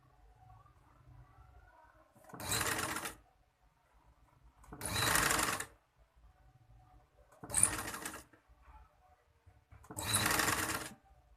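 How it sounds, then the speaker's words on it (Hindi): A sewing machine stitches piping onto a neckline in four separate bursts of fast whirring, each about a second long, with quiet pauses between them as the fabric is turned. "पाइपिंग को अंदर रखना है और सिलाई बिल्कुल निशान के ऊपर लगानी है।"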